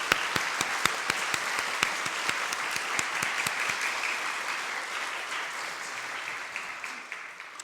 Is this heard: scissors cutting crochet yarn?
no